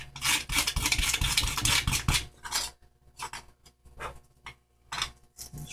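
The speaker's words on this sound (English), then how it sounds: "It's really tearing this sandpaper up" Hand sanding with rough sandpaper around an opening in a salt water VHF/UHF dummy load, heard as a close, dense run of rasping strokes for about two seconds, then several shorter, quieter scrubbing bursts separated by pauses.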